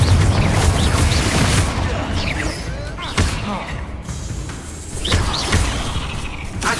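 Explosive Confringo spell blasts from Hogwarts Legacy go off in a loud, busy run, booming thumps and whooshes following one another over steady game noise.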